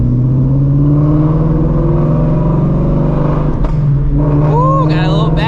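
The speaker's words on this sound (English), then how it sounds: "got a little backfire with these Shelbys, man" A straight-piped Shelby GT350 rumbles loudly and close at low city cruising speed, its engine drone steady before a short sharp crackle of backfire near the end, with a few faint squeaks.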